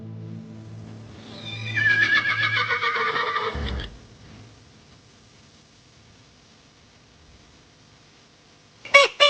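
A horse gives one long, loud whinny that rises and then trails off, followed by a quiet stretch and a brief final snort or knock.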